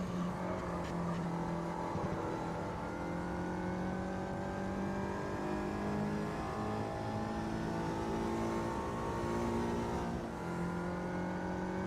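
A race car engine in the Automobilista 2 sim racing game drones loudly and continuously, its tone rising and falling with throttle and gear changes.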